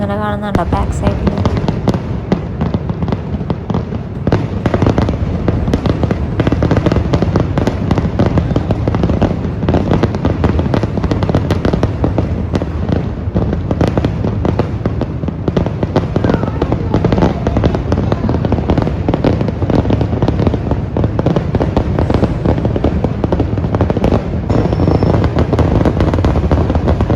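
A Thrissur Pooram sample fireworks display, a dense continuous barrage of loud crackling bursts and booms that roars without a break for nearly half a minute, with voices faintly mixed in.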